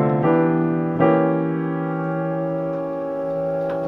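A reharmonized jazz piano chord from a holiday-tune arrangement rings out close and clear, struck and sustained with a few softer notes added as it decays, with no talking.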